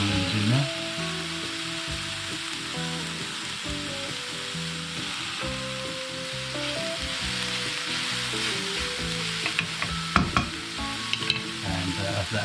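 Mushrooms and spring onions fry in oil in a pan for a chicken and mushroom filo pie, sizzling steadily up close for about twelve seconds, with stirring clatter and scraping toward the end.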